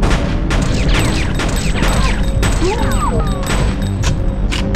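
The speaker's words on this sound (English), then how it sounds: "Stop shooting me!" Gunfire in the Fear Effect video game, rapid loud bursts of shots and thuds over dense game noise and whooshing effects, continuous for several seconds.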